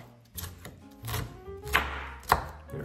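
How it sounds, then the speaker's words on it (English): Onion being chopped on a cutting board for stuffed zucchini, several sharp knife thuds at an uneven pace, close and crisp with no talking. "Just gonna get the onion chopped up nicely."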